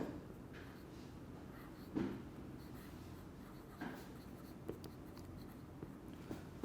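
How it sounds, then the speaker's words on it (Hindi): Chalk or marker strokes from a teacher writing on a board during a chemistry lecture, scattered soft scratches and taps over a quiet room. "मैं यहाँ पे लिखूँगा कि"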